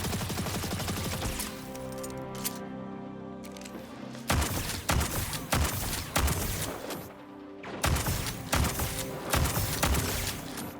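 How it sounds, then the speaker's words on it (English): Dense, loud volleys of Ikelos weapon fire in the video game Destiny 2: rapid overlapping shots and bursts with brief pauses, continuous and up close. "Some of the Ikelos weapon sounds have actually been changed a little bit"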